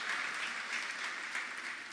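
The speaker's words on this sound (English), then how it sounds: "Let's give our Papal Nuncio, Charles John Brown, a big round of applause." A crowd at a national mission congress gathering applauds a papal nuncio, a dense, steady wash of clapping that carries on without a break and fades slightly toward the end.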